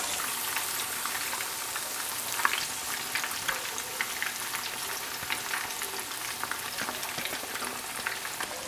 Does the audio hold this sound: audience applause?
no